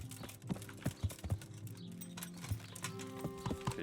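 Steady rhythmic clip-clop of a horse's hooves in the video game Kingdom Come: Deliverance, fairly close and moderately loud, continuing without pause over a faint background.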